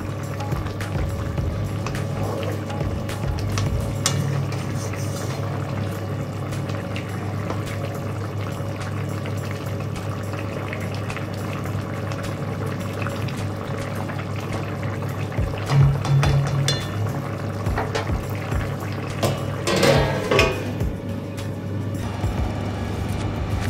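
Water running and pouring steadily into containers in a home kitchen, a continuous wash of flow with a low hum underneath and a few louder splashy surges near the end, no talking.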